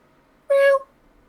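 A person imitating a cat's meow: one short, clear, high-pitched mew, loud and close, heard alone against a quiet background.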